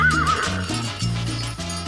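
Horses neighing during a muster of a herd on a Chilean mountain farm, a loud whinny close by followed by further snorts and calls from the animals, with no talk over them.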